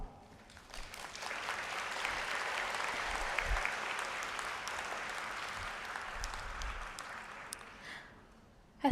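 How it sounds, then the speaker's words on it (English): A large audience at a university convocation ceremony in a hall breaks into sustained, even applause that swells quickly and carries steadily for several seconds before cutting off. "Let's give ourselves a round of applause"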